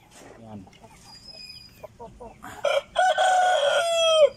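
A Tanaka Shamo rooster crows loudly and close, one drawn-out call rising then falling over a couple of seconds, after softer clucks and farmyard noise.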